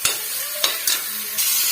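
Capsicum and onions fry in a pan with a steady hiss, and a spatula scrapes and stirs about four times in close, sharp strokes.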